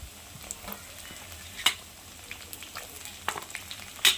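Green peas and green chili sauté in oil with browned onion, giving a faint, thin sizzle broken by a few sharp scrapes and clinks of stirring, quiet and close.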